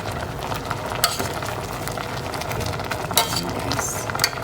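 Moringa leaves cook in a Filipino vegetable stew, with a soft steady sizzle and simmer under occasional stirring clinks and scrapes from a utensil, close up with no talking.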